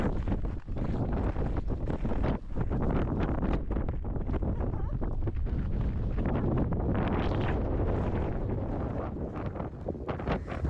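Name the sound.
strong wind on snowy mountain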